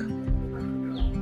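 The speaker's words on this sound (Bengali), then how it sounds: "জঙ্গলের মাঝে পাখির ডাক" A bird calls twice at close range in a forest at Chhayatal, West Sikkim, a short, throaty, clucking cry over a steady hum.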